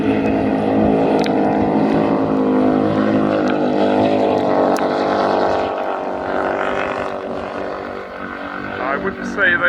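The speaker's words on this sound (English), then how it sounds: "I wouldn't say those engines sounded as sweet as they were when they started." Racing powerboat engines roar past the finish line in the Cowes–Torquay–Cowes offshore race, a loud sustained droning whine that fades slightly near the end, with a commentator talking over it.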